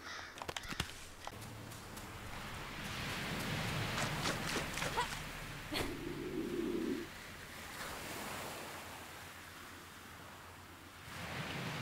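Ocean surf from the video game Die Young washes in a steady, soft roar, with a few sharp clicks near the start and faint calls in the background.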